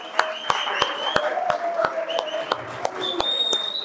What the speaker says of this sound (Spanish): Un aplauso para los dos muchachos.